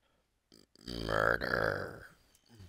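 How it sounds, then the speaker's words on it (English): A single long, loud, gurgling burp from a character in the Starfield video game, rising abruptly after a brief click and trailing off over about a second and a half. "Burp."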